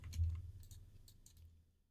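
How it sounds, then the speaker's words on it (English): A soft key press of Alt and Enter on a computer keyboard gives a brief muffled click with a low thump, then fades to near silence. "you then want to press Alt Enter on your keyboard"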